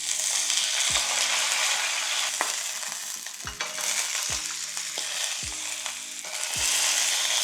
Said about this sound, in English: So what I'm going to do is take it out and then we'll sear the outside off.